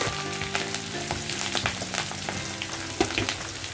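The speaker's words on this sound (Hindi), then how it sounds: "तो इन तीनों को हम थोड़ा सा अच्छी तरह सौटे करके ले लेते हैं" Ginger and green chili sauté in hot oil in a pan, giving a close, continuous crackling sizzle with quick scraping stir strokes and a steady low tonal hum underneath.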